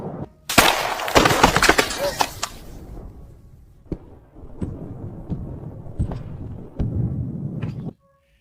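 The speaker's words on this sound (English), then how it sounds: "the sap inside freezes quickly, like Pepe says, and it explodes because it can't fit" A tree trunk splits in hard frost as its sap freezes, giving one loud sharp crack followed by several smaller, widely spaced pops and snaps nearby.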